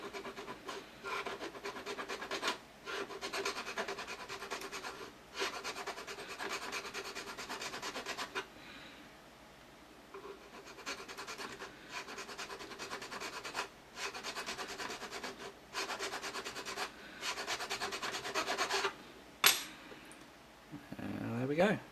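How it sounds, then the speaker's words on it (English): A square file rasping down a small solder fillet lump on a metal switch blade held in a filing jig, heard as close, steady scraping strokes in repeated bursts with short pauses between them. "just simply with a square file, just file that little fillet lump down"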